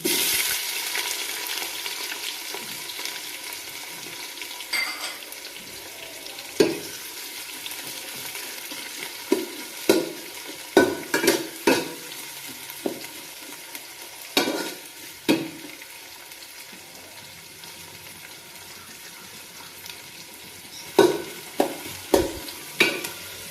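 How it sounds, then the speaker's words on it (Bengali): Chopped onion frying in a pan after minced garlic, a steady close sizzle with scattered sharp stir and spatula clicks over the frying. "পেঁয়াজটা ভাজা হতে থাক"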